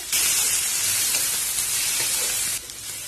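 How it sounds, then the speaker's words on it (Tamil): Onion and garlic sautéing in a pan with rock salt for a Tamil onion thokku, a steady loud broadband sizzle and frying hiss that holds for most of the clip before easing slightly near the end, with no talk. "இந்த வெங்காயம் பூண்டையும் நம்ம வந்துட்டு லேசா செவக்கிற அளவுக்கு வதக்கிக்க போறோம்"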